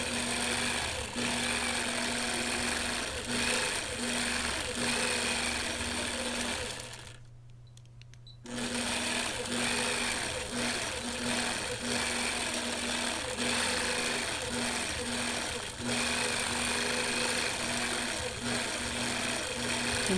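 A sewing machine stitches during free motion quilting, a fast, steady mechanical chatter heard close through vibration, stopping briefly for about a second midway and then running on continuously.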